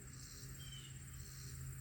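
A cicada drones in a summer meadow, a faint, steady high buzz running throughout with a soft outdoor hum beneath it.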